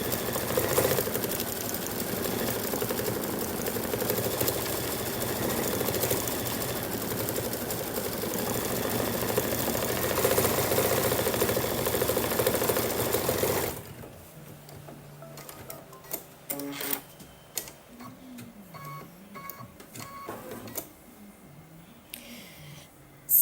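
An embroidery machine stitches the stem of a Kimberbell mug rug in azure thread, humming with a steady rapid stitching drone for several seconds before stopping, leaving quieter scattered clicks and small mechanical sounds.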